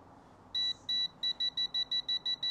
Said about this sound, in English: We'll wait till that stops beeping.